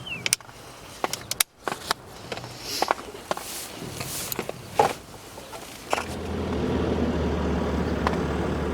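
On a cold, snowy day in the countryside, a farmer's vehicle approaches, its low rumble swelling gradually over scattered faint clicks and knocks until it fills the last few seconds.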